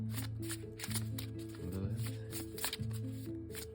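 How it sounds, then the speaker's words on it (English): Cards are riffled and shuffled repeatedly in quick bursts, close and crisp, over a steady low musical hum. "More shuffles."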